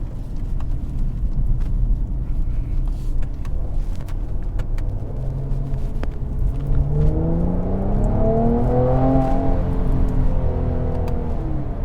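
A Mercedes C43 AMG engine hums steadily up close, its deep exhaust note rising and swelling in pitch toward the end before easing slightly.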